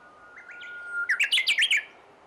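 A Japanese bush warbler sings on an island, opening with a soft rising whistle and breaking into a quick series of about six bright, loud chirping notes, clear and alone.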